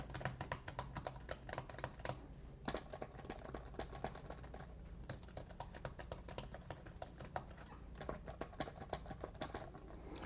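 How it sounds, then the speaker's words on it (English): Steady, rapid key clicks from typing on a compact foldable Bluetooth keyboard, quiet and close, with brief pauses between runs of keystrokes. "So we're gonna also listen to the sound of the keys."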